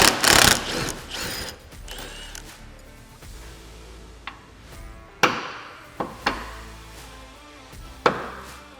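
A factory nut is tightened on a Honda Pioneer 1000-6 while a hood rack is being installed. Sharp metallic clicks and knocks come one at a time over a quiet workshop background, with a louder burst of handling noise at the start.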